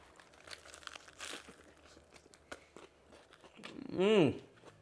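Someone bites into a crunchy prawn and vegetable tempura lettuce wrap, giving a single close, loud crunching burst near the end, with light handling noise and faint talk earlier.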